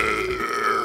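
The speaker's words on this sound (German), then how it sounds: "Ich liebe das, wenn du so richtig übertrieben rülpst." A single exaggerated, loud burp, drawn out and croaky, close to the mic and heard on its own with no talking.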